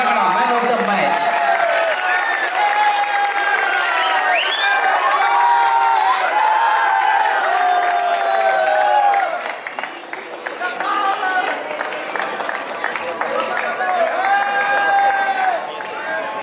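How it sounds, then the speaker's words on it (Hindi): Crowd at a local football match greets the man of the match with sustained clapping and cheering, excited shouts and voices mixed through the applause, which dips briefly before picking up again. "नितेश लकड़ा के तो जोरदार तालियों से स्वागत करें।"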